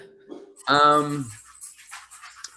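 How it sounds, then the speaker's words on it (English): A dog gives a single short bark or yelp, followed by faint rustling and soft noises. "there's a dog"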